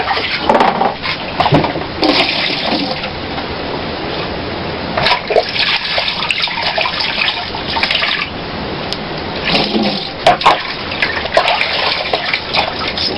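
Running water pours steadily and loudly over a milkfish being washed outdoors in hard rain, a continuous splashing gush with brief louder surges.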